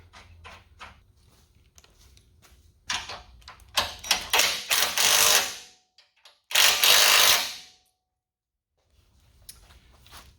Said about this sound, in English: we're going to tighten down these bolts